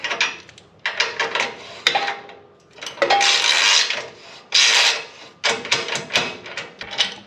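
Broken ratchet tightening a radiator support bolt during off-road protection plate installation: irregular bursts of raspy clicking and grinding, close and fairly loud, separated by short pauses.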